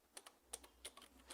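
Keys on a computer keyboard clatter in quick, uneven taps, about eight distinct clicks, faint and close, with no voices.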